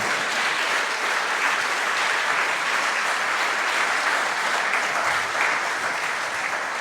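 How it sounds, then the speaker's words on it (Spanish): A church congregation claps steadily throughout, giving a dense, even wash of applause at moderate volume with no talking over it. "dale un aplauso grande a este Señor"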